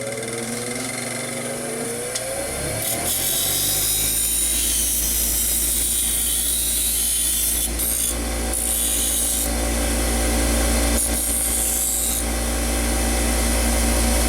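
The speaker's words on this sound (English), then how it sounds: "This guy will just touch up on the grind wheel." A bench grinding wheel touches up a small metal part during an InSinkErator garbage disposal repair. A motor spins up, then a steady, loud grinding hiss holds under the motor's whine for over ten seconds, with no speech.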